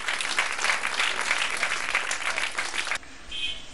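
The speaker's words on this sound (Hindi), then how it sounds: "एक बार संदीप जी के लिए जोरदार तालियां बजाइए।" An audience at a gurukul school event in India breaks into loud, dense applause that claps steadily for about three seconds, then cuts off abruptly into quieter room sound.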